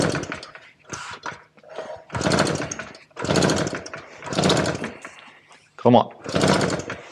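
A Solex 3800 moped engine with the choke on sputters and revs in repeated short bursts as it tries to catch, loud and close, with someone speaking briefly between attempts.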